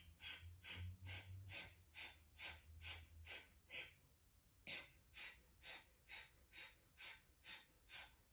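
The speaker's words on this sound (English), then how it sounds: "And begin breath of fire." Breath of fire, a rapid yogic breathing practice from a Kundalini session: a steady train of about twenty quick, forceful nasal exhales in even rhythm, close and clear, with a brief pause midway.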